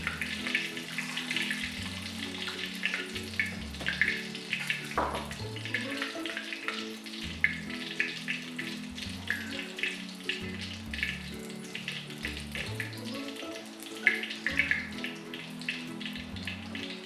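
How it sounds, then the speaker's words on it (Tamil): Water running and splashing into a bowl of tamarind set to soak in a home kitchen, a continuous close trickling gush with a soft low rumble beneath. "இந்த புளியை தண்ணி விட்டு ஊற வச்சுக்கலாம்"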